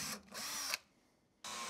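A power drill driving screws from inside into a wooden drawer front during kitchen building, two short close whirring bursts separated by a brief quiet gap.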